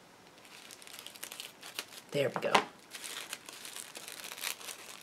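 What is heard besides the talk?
tissue paper ripping while unwrapping a package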